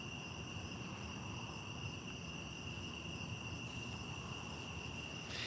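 A steady, high-pitched insect drone of cicadas fills the air continuously, faint and distant over a quiet outdoor background.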